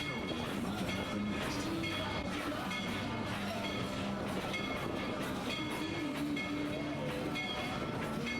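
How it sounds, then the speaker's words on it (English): The Tweetsie Railroad #190 train rolls along the tracks with a continuous rumble and rhythmic clatter, and a tonal hum rises and falls in places throughout. "please remain seated until the train has come to a complete stop"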